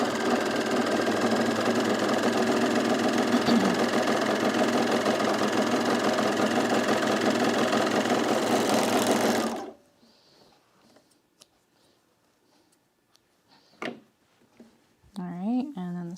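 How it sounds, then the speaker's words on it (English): A serger stitches a fabric seam on a color-block top, running loud and steady for about ten seconds before stopping abruptly, followed by quiet handling clicks and a brief voice. "So let's serge it with the right side on this side."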